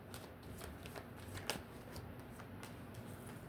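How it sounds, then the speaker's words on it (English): A deck of tarot cards being shuffled by hand, a steady run of soft papery riffles and flicks with a few sharper snaps, close and fairly quiet over faint room noise. "Let's shuffle this one."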